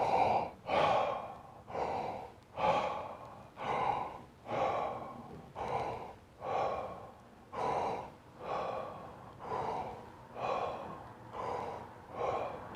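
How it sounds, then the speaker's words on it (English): Slow, connected circular breathing through the mouth, with about a dozen audible inhale-exhale cycles flowing into each other without pauses, close and soft, with no talking. "It's a circular breath. And so the breath will look something like this."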